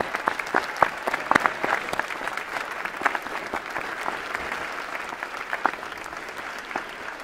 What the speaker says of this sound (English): can we get a huge round of applause for our parents?